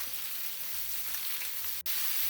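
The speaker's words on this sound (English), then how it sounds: "keep frying the mixed peppers for another 2 to 3 minutes" Mixed peppers sizzle steadily in a hot pan over a high flame, a continuous broadband hiss close up, with one brief dip near the end.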